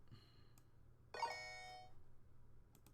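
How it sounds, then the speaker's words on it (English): A phone rings once in a room, a short bright tonal chime that rises suddenly and fades within under a second, faint over a low steady hum. "That's my phone."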